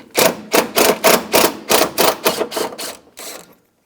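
A 10mm socket ratchet loosens the hood bracket bolts on a 2004-2009 Subaru Outback during a radiator replacement, giving about ten crisp, evenly spaced clicking bursts up close before stopping and leaving silence.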